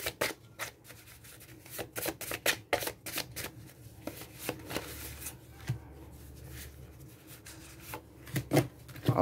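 Tarot cards are shuffled and drawn during a general reading: quick, close papery slaps and rubs that come in rapid bursts, then a brief pause and scattered flicks, with no speech.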